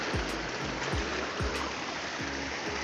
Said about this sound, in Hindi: पानी माशाल्लाह बहुत ही ठंडा है